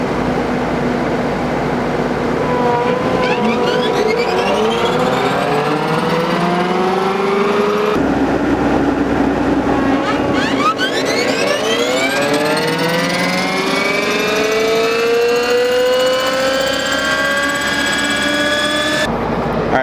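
A Denis Cimaf DAF 180D forestry mulcher head spins up on its hydraulic drive, a loud, steady machine roar with rising whining tones that climb twice in a row, close by and without talk.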